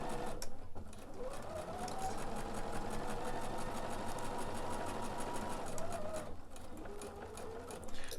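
A Bernina sewing machine stitches quilt pieces together, a continuous fast, even whirring hum of needle strokes, close up and steady throughout with brief slowdowns near the start and end.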